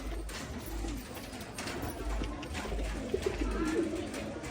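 Pigeons in a coop coo softly and repeatedly over a steady background rumble and hiss, with no one talking.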